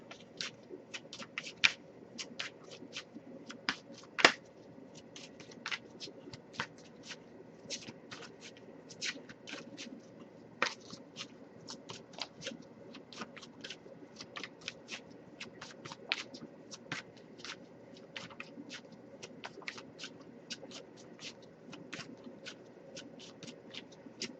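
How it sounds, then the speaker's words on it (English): Soft, steady riffling of cards being shuffled over and over, quiet crisp flutters repeating close by with no talking. "nothing coming up yet, but I'll give it a few more shuffles"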